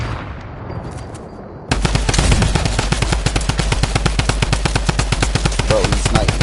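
Rapid automatic gunfire erupts in a PS4 shooter game, a loud, dense stream of evenly spaced shots following a quieter stretch with faint game noise.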